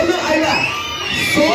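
First-grade schoolchildren shout together at a school posada, a loud, dense crowd roar of young voices that swells again toward the end.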